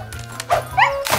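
Cartoon dog gives a few sharp, high yips and barks in quick succession, close and loud, over faint background music.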